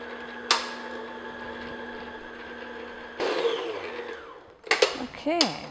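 An electric mixer beats butter and sugar for yellow cake batter, its steady motor hum broken by a sharp bump and a louder burst of churning midway, followed by clattering and scraping sounds near the end.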